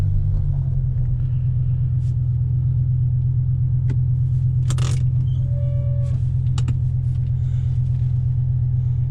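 A BMW E60 M5 engine idles with a misfire, cylinders 3 and 4 cut off, giving a steady, loud low rumble with an uneven pulse and occasional faint mechanical clicks close by.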